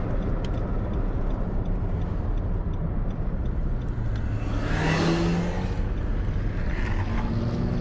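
A 2018 Nissan Titan pickup truck drives at half throttle, its engine a steady loud broadband roar with road noise heard from inside the cab, and a brief whooshing swell midway.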